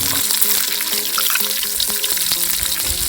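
Mustard seeds, cumin, green chillies and curry leaves fry in hot oil in a village kitchen, a loud, steady sizzle with sharp popping and spattering crackles throughout, close up and with no talk.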